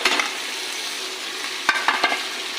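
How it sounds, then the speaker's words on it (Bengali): Fried potatoes stirred in a pan for ghugni cooked with mutton fat, a steady sizzle under scraping spoon strokes, with a few sharper knocks near the end, close and alone. "আলুগুলো দিয়ে আবার নাড়বো আমি এর সঙ্গে একসঙ্গে করে।"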